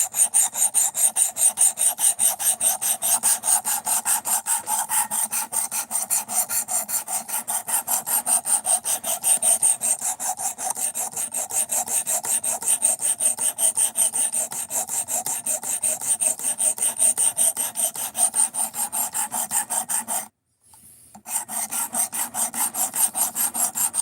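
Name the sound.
sanding with 220 grit abrasive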